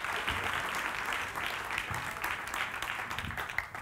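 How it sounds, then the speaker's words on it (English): A science-communication competition audience applauds, a dense sustained wash of many hands clapping at once, steady and moderately loud throughout. "Can we tap into the power of applause, please, for our Indian champion, Mayor Bonkheel?"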